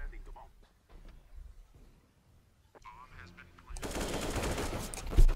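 Gunfire in the CS:GO video game, a burst of rapid automatic shots swelling loudly in the final seconds after quieter game noise and a player's voice early on.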